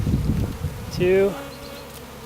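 A honey bee swarm is shaken off a branch into a box, making a short rising buzz of bees over a rustle, following a spoken count.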